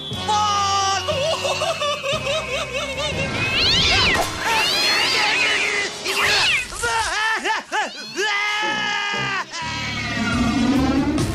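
A cartoon kitten meows repeatedly in high, drawn-out cries, loud and close, with varied pitch and short pauses between calls.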